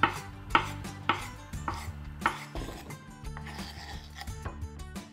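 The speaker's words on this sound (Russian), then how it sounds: "Теперь нарезаю авокадо маленькими кубиками." A knife dices avocado into small cubes on a cutting board in quick, evenly spaced thuds, close and clear, with no talking.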